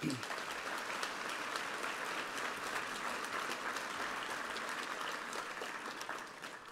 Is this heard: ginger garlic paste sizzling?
no